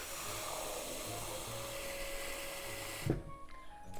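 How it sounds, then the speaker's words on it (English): Tap water runs steadily onto rice in a bowl for rinsing, a continuous close hiss that stops abruptly near the end, followed by a brief splash and faint handling sounds. "Put some water."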